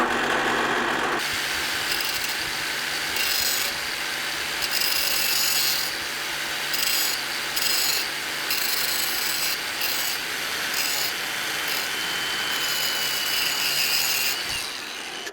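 A power tool spins at high speed grinding a small part for a Land Rover, a loud continuous whirring rasp with rough, uneven bursts as it bites in, close and without talk.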